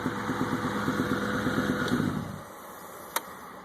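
A 1927 Ford Track T engine idles with a steady low putter, then cuts off, leaving quiet and a single faint click.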